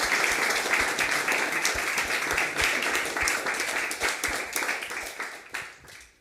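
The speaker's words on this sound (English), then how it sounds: "So let's all have a last round of applause." Audience at an academic symposium applauding with dense, sustained clapping that stays loud throughout and tapers slightly near the end, with no speech over it.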